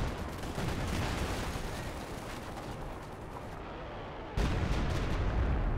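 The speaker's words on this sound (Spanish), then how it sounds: "Dios, cuánta artillería." Artillery fire in Company of Heroes 2, a dense rumbling barrage of booming impacts layered together into a continuous roar, easing slightly before another heavy blast hits near the end.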